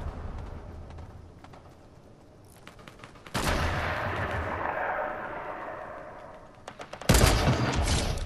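Fortnite gunfire crackles in dense bursts, a rapid volley near the start, then two loud sustained barrages of shots from about 3 seconds and again near the end, with no talk.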